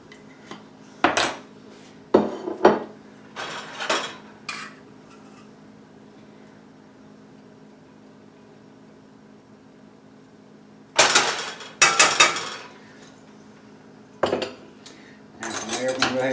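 Metal cutlery and dishes clink and scrape in bursts while food is plated, with a quiet stretch in the middle before several more clusters of knocks and clatters near the end.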